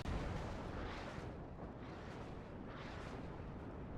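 Bomb drop explosions in the WARNO wargame: a dense, continuous rumbling barrage of booms and blasts, loud and sustained throughout with no talk.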